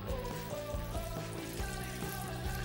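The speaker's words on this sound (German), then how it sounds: "Und jetzt gieße ich das Ganze mit Brühe auf." Homemade beef broth pours into a large pot in a kitchen, making a continuous, full splashing gurgle that stays steady and fairly loud with no talk over it.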